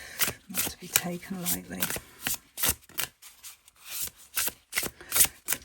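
Cards from The Akasha Oracle deck are shuffled and pulled, giving repeated soft riffling and sliding bursts, close and moderately loud, interleaved with a person talking.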